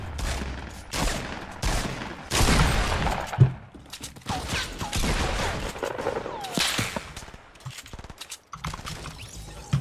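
Fortnite gunfire aimed at a concrete wall: loud, rapid volleys of shots in repeated bursts, with impact cracks and brief gaps between strings of fire.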